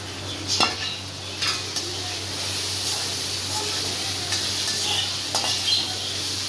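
Beans, carrot and cabbage sauté with turmeric in a pan for egg fried rice. A soft, steady sizzle runs under several sharp clinks and scrapes of a spatula, with no talking.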